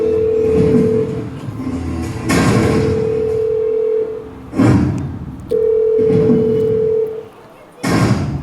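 During a children's mime skit, a steady telephone dial tone hums in three long stretches, broken by thumps and loud voices talking between them.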